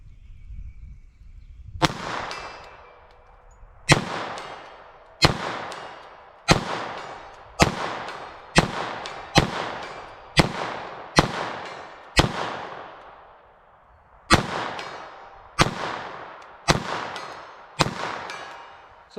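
A string of about fourteen sharp .22 Long Rifle shots with Remington ammunition, fired at a steady, fairly quick pace with one longer pause, each a crisp loud crack with a short echoing tail outdoors.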